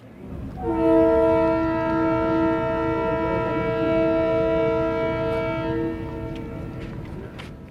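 A train runs with a steady low rumble while its horn sounds one long, loud, sustained blast of several minutes' worth of layered tones, lasting about five seconds before fading back into the rolling noise.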